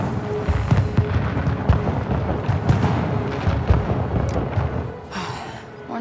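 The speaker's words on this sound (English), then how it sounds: "some fireworks have come out to play. And we've got fireworks." Fireworks burst in the video game Star Wars Outlaws, a dense run of booms and crackling pops at moderate loudness that thins out toward the end.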